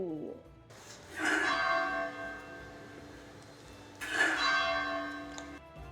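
A church bell in coastal Semarang, Indonesia strikes twice, each ring loud and resonant with a long humming decay. Faint background sound is heard between the strikes.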